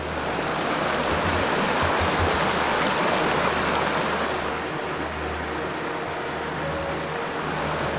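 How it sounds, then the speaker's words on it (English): A small creek flows at a campsite crossing, a steady close babble and rush of water with a faint low hum beneath and no talking. "we got a little creek here"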